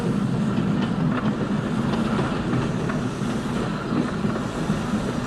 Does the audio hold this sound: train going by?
yes